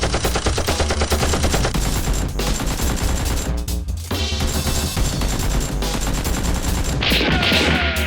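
Toy Nerf blasters fire in a play battle, producing dense, rapid bursts of sharp, loud popping shots that overlap continuously at close range, with no talk.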